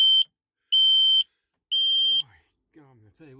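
A Fire Angel smoke alarm inside a motorhome sounds three loud, piercing beeps in an even rhythm during a test, and someone talks briefly after the beeps stop.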